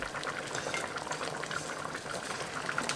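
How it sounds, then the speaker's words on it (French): Tarragon chicken with peas simmering uncovered in a pot while being stirred, a steady close bubbling and soft liquid churning with light scraping throughout, no talk. "On va mélanger un petit coup."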